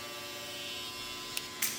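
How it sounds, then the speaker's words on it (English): Quiet Suprent Pro cordless hair trimmer running alone, a faint steady electric hum with a soft high whine, interrupted near the end by two brief clicks or taps. "Once again, super quiet trimmer."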